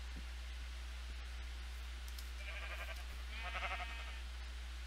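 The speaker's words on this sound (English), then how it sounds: "Come on, sheep. Don't run away." Two short bleats from a sheep in Minecraft, fairly faint over a steady low hum and background hiss.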